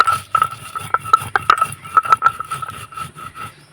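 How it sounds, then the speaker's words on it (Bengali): Spice mixture being ground coarsely by hand for a raw mango sweet, heard as close, irregular tapping and scraping knocks of a hard utensil against a bowl or stone, alone and fairly loud. "আর একটু মশলাটা দানা দানা করে বেটে নেব।"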